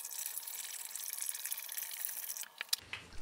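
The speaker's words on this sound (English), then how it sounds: "and poured some hot water from the sink in." Hot water from a sink pours steadily into a plastic tub with a bright, rushing splash, then trickles and stops near the end.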